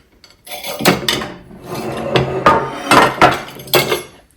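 A Christmas dish being picked up and set down in a kitchen while it is packed away: several hard knocks and scraping clatters of dishware, close and fairly loud, with short pauses between.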